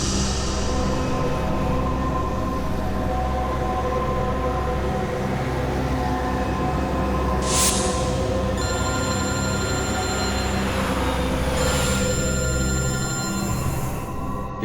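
A telephone rings in a tense scene from the Hindi crime drama CID, two bright bursts of ringing over a loud, continuous droning background score, with no speech.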